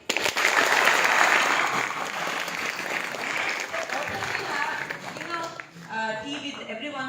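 An audience at a children's mentoring session during the Shimla Book Fair breaks into loud, sustained clapping that slowly fades toward the end as voices come through.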